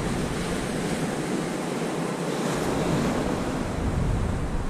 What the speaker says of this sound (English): the way the waves are pushing in here now